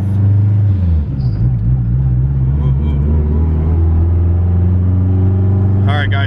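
An all-wheel-drive Honda Civic with a twin-disc clutch cruises along. Its engine gives a loud, steady low drone and rumble from inside the car, with a brief rise near the end.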